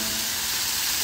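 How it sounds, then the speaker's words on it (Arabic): Meat searing in rendered fat in a pot for kabsa, a loud, constant hissing sizzle with no pauses. "يلا بنصدم اللحم، أعطيه صدمة"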